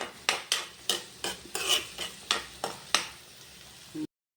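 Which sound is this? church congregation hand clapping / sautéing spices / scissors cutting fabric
sautéing spices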